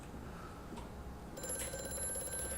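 A faint electronic telephone ring in the video game Amnesia: A Machine for Pigs starts partway through, a steady tonal trill over a low background hum.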